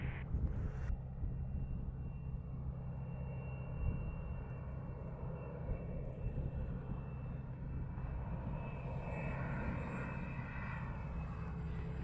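A fixed-wing airliner roars in on approach to runway 07 at Montego Bay, Jamaica, a steady broad engine rumble that holds for the whole stretch, distant but constant, with no voices.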